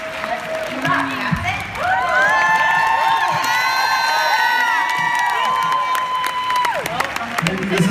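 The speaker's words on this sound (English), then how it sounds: "Let's give a huge round of applause to Becky, Brossett, and Micah Folsom." A workshop audience at a 2015 summit breaks into loud, sustained applause and cheering, with whoops and whistles rising over steady clapping that holds strong to the end.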